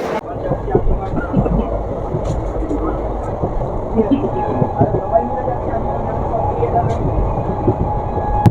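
The Krishnanagar City–Azimganj passenger train runs at speed on its first day, a loud, steady rolling rumble with rhythmic wheel clicks throughout.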